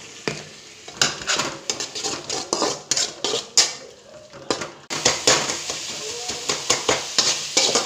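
Tomato masala with Kashmiri chili powder and chicken 65 spice fries in oil in a pan for egg masala podimas, a spatula clanking and scraping against the metal in quick repeated strokes over a continuous sizzle.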